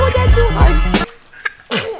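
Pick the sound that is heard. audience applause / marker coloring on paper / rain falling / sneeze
sneeze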